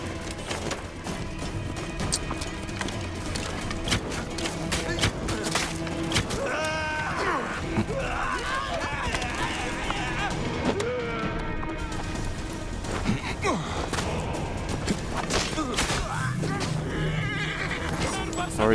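A horse in the Assassin's Creed Origins video game neighs and whinnies repeatedly amid clattering hooves and crashing action, loud and close, with occasional voices in the mix.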